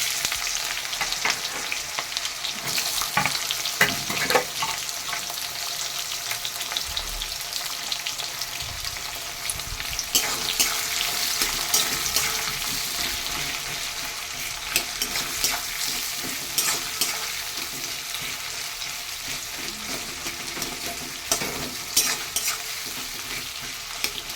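Two onions hiss and crackle as they fry in hot oil with whole spices in a pan, a dense, close sizzle lasting throughout, broken by occasional stirring scrapes.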